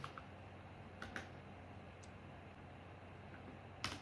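Light typing on a computer keyboard, a few scattered soft clicks and taps spread across the stretch with quiet gaps, faint and close against low room hiss.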